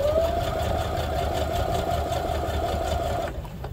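A sewing machine stitches fabric for a garden kneeling pad, running as a steady close mechanical whir with a rapid needle patter that stops abruptly near the end.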